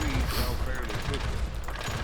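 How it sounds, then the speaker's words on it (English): Gunfire in the western shooter Call of Juarez: Gunslinger, a dense, continuous barrage of shots and mechanical clatter, loud and close throughout a short burst with a voice talking underneath. "So I'm gonna try to shoot these guys in the chest because they have explosive bandoliers and explosions are cool."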